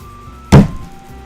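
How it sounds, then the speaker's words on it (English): A single short soft thump, the nodding sound effect from the visual novel game Doki Doki Literature Club, lands once mid-clip against a quiet background. "That's the sound of nodding."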